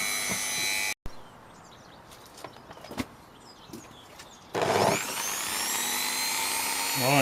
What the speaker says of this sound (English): we've gone round the rim, shaved down the extra excess on the outer rim of the brake drum